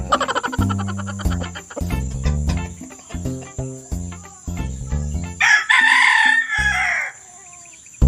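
A native chicken crows loudly nearby, a strained drawn-out cock-a-doodle-doo near the end, preceded by clucking and chattering bird sounds over a constant insect chirp.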